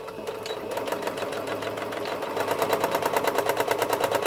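A sewing machine stitches a wall hanging in a steady, close, mechanical chatter that quickens into an even, faster rhythm partway through, with no talking.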